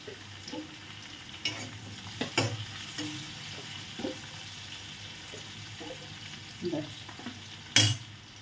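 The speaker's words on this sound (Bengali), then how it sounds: "চলো এখানে দিয়েছি তেজপাতা এলাচ দারচিনি লবঙ্গ" Whole spices (bay leaf, cardamom, cinnamon and cloves) sit in a little hot oil in a kadai, giving a low, steady sizzle broken by several clattering stirs and scrapes, with one sharper knock near the end.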